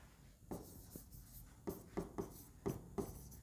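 Teacher writing words on a board during a Hindi class, a series of faint, close, sharp taps and scrapes in an irregular rhythm, with no talking.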